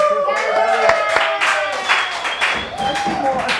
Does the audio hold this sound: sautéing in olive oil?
no